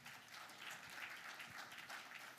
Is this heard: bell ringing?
no